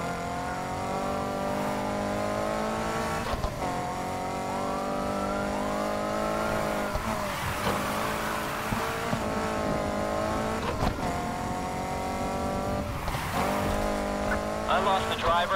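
A car engine revs and accelerates in Need for Speed Heat, rising and falling tones repeating through the stretch, with speech over the driving.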